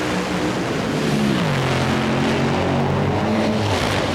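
A top fuel dragster races at the 1998 NHRA Revell Nationals in Dallas, its roar carrying loud and continuous with tones gliding as the car passes, blended with crowd and track noise.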